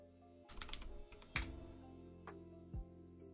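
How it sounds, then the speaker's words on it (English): Quick bursts of typing on a computer keyboard, close and quiet, with a flurry of rapid clicks followed by a few isolated key presses. "I'll just type in what I've done."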